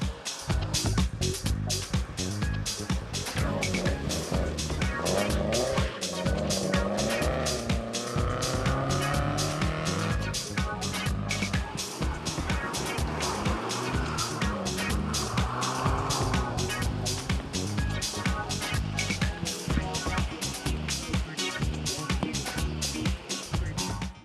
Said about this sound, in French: on relevé les passages de cette superbe Renault 8 Gordini datant de 1967